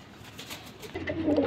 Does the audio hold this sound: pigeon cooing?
yes